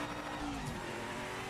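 A race car in Project Motor Racing roars past with tires squealing and scrubbing as it corners, the high skid tone rising briefly over a steady engine drone.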